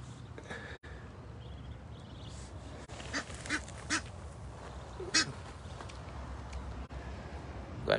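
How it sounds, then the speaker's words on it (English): Egyptian geese on the water below Mount Arbel by the Sea of Galilee, with a few short honks and calls rising over steady background noise, scattered through the clip. "Egyptian geese."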